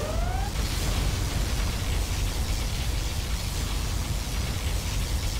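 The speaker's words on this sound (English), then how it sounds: "Particle cannon activated." A loud, continuous roaring blast of dense noise from a particle cannon firing in the video game C&C Generals: Zero Hour, steady for several seconds.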